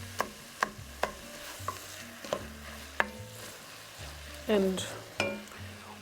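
Vegetables and garlic sautéing for a vegan chili, with a soft sizzle under repeated sharp clicks and scrapes of a utensil stirring the pan, and a brief spoken word.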